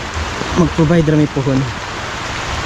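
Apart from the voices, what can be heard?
heavy rain falling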